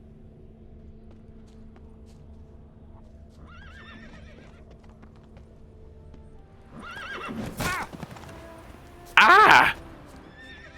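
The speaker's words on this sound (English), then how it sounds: "Apparently I accidentally hit that horse, so now he's Winds mad at me." A horse in The Witcher 3 whinnies and snorts loudly after being struck, following a quieter stretch of low game ambience with faint hoof sounds; a man gives a short exclamation just before the final loud neigh.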